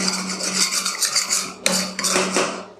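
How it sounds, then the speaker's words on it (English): Paint scraper scraping tree sap and chain oil gunge off a 1980s Husqvarna 50 Rancher chainsaw, a steady close rasping rub with a few sharper scrapes near the end, no talking. "Can't beat a good paint scraper for this job."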